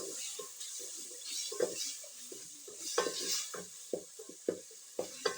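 Food stirred in a cooking pot of tomatoes and salt in a Kenyan village kitchen, with repeated scraping and knocking strokes in an uneven rhythm over a soft background hiss, close and moderately loud.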